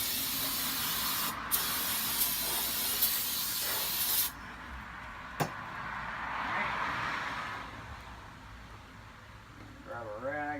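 Brake parts cleaner sprayed from an aerosol can onto Ford 8.8 rear axle parts in a garage: a steady, loud hissing spray that lasts several seconds, cuts off, then returns more faintly, with brief clicks and a short rising whine near the end.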